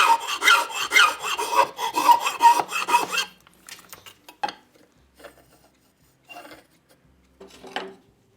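Rapid, rhythmic rasping strokes of a file cutting a small bevel into wooden coach joinery, loud and close for about three seconds, then a few scattered short scrapes and rubs with quiet gaps between them.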